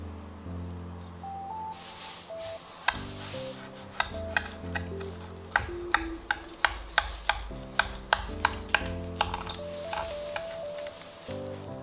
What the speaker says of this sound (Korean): 이제 대망의 고기를 썰어 보겠습니다.